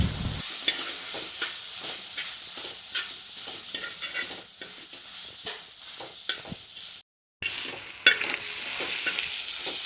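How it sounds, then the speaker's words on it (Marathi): Sea fenugreek greens with crushed peanuts sautéing on a tava: a steady close sizzle with repeated scraping stir strokes, briefly cut off near the end before the frying resumes. "मी शेंगदाण्याचं कूट घालून व्यवस्थित परतून घ्यायचं"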